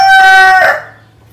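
A champion rooster crows once up close, a loud, bright, drawn-out call that breaks off and fades into quiet farmyard ambience with no talking.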